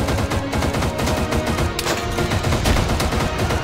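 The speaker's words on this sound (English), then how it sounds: "Oh, shots!" Rapid, dense gunfire from a U.S. Army cavalry unit, loud continuous bursts of automatic shots overlapping into a sustained roar with no pause.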